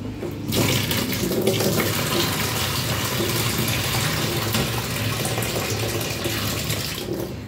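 Filtered water splashes and runs steadily as chiwar greens are washed by hand for a third rinse, a continuous close, full-bodied gush with no speech.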